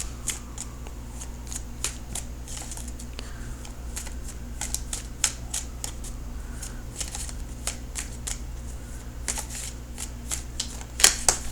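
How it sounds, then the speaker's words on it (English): Tarot cards are shuffled repeatedly up close, crisp riffling bursts in quick succession, with a louder flurry of snaps near the end. "So let me shuffle for an outcome card."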